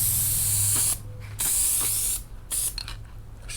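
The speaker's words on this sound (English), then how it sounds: "We're just gonna take our glue and spray it." Spray adhesive hisses from an aerosol can onto a cracked Chevy truck dashboard pad, three or four loud close bursts separated by brief pauses, no talking.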